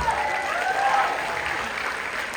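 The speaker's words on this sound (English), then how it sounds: "let's give them a warm round of applause" Audience applause after a combined performance by a university symphonic band and rock band, a steady, dense clapping wash that holds evenly for a couple of seconds with a faint voice or tone running underneath.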